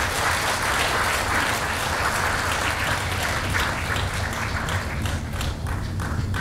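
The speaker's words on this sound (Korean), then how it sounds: "큰 박수로 환영해 주시길 부탁드리겠습니다" Audience at a Yongin mayoral candidates' social welfare policy forum for the local election applauds to welcome the candidates on stage; dense, steady clapping fills the whole stretch without pause or speech.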